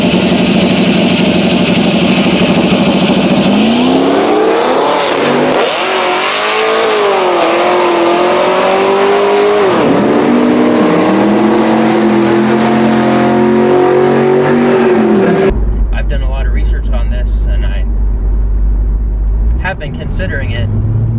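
A Mazda Miata with an LS V8 swap revs loudly and close, its engine note climbing and falling in several rising sweeps before settling into a lower steady drone.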